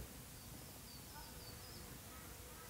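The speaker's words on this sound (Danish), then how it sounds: "Og bierne finder dem, undersøger dem og finder lidt pollen og nektar, som de kan tage med hjem." Bees foraging for pollen and nectar on fresh flowers laid out outdoors in cold February weather, a steady close insect buzz that holds without a break, with no talking.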